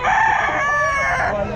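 A rooster at a pet market in the Philippines gives one loud, close crow lasting over a second, its drawn-out call clear above faint background noise.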